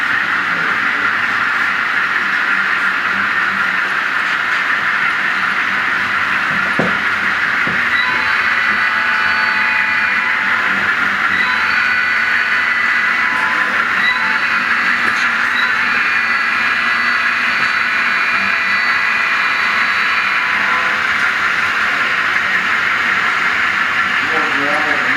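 An HO scale model train runs on a Rock Island layout during an operating session, giving a continuous hissing, rumbling drone that holds for the whole stretch while people talk nearby.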